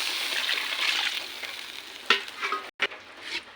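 A curry sizzles steadily in a pan while a spoon scrapes, then broth is poured in, giving a sharp splash, a brief drop in the frying and a few more stirs, close and clear, no voices.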